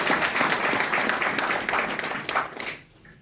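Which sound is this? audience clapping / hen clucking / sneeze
audience clapping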